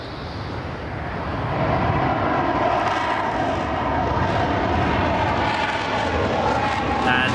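A Dassault Rafale fighter jet flies past at the Farnborough air show, its roar rising from moderate to a loud, sustained rush with a faint tonal whine, while a voice speaks briefly.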